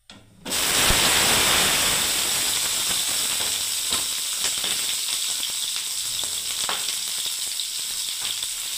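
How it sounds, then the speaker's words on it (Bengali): Pointed gourds drop into about three spoons of hot oil and burst into a loud, dense sizzle. It holds steady and close with faint crackles throughout and no voices. "দেখুন এবার এই পটলগুলোকে খুব ভালোভাবে ভেজে নিচ্ছি একেবারে।"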